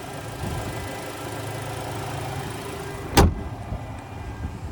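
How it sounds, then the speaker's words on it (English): A Ford Maverick's 2.0-liter turbo four-cylinder, in a 2025 XLT Luxury pickup with the hood up, runs at a steady, moderately loud idle, broken by one sharp, loud clunk partway through. "And there's that 2-liter turbo 4."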